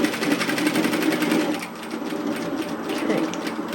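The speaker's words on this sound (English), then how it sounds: "we're stitching 1 centimetre to the side, to the lower side of that line" A sewing machine runs in a fast, steady whir of stitching while a tailored vest is sewn, loud and close, with a short dip in pace midway before it continues.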